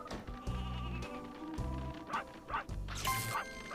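Sheep in the video game Space Station Silicon Valley bleating repeatedly, several nasal calls in quick succession with some yappy dog-like barks mixed in, close and clear.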